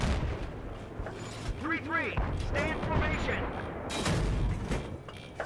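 Enemy gunfire in Battlefield 3 crackles and booms through a noisy battle, with shots and impacts layered over engine-like rumble and voices talking.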